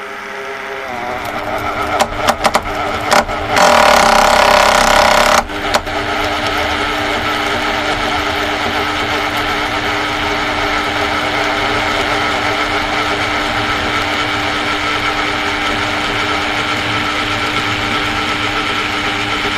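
Rotary hammer drilling granite with a core crown, running at low speed: a steady mechanical whir, close and continuous, with a brief loud burst of grinding and rattling as the safety clutch slips before the motor settles back to an even drone.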